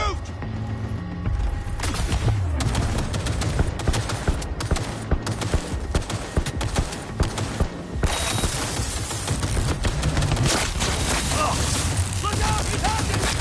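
Heavy, sustained gunfire in the video game Cyberpunk 2077 fills the scene with dense bursts and impacts, loudest in the second half, with no talking.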